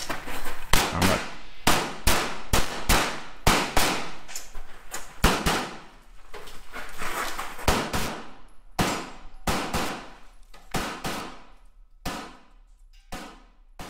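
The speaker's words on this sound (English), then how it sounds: "His shooting is very similar to what Jody shot" Rapid pistol shots crack out at an IPSC practical shooting stage, sharp loud reports in quick strings and pairs with brief pauses between bursts, continuing throughout.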